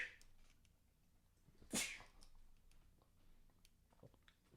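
A single sharp, explosive sneeze bursts out near the middle, short and fairly close against a quiet room with faint background rustle.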